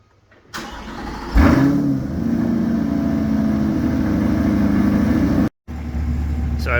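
A Chevrolet C8 Corvette engine cranks and fires after an oil change, surging loudly on startup then settling into a steady, deep idle that rumbles close by with a brief break near the end.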